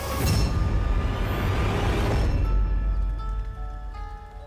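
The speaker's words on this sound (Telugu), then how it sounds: "వర్షం కూడా మొదలైంది." Steady hiss of rain falling on a surface, loud and dense at first, then easing to a softer patter with faint tonal hum in the background.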